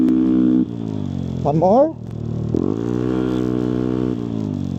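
Yamaha Aerox V3 scooter engine revved hard at full throttle in sports mode, a loud steady drone that dips, rises through a brief rising rev, then holds high again, with a voice speaking briefly over it.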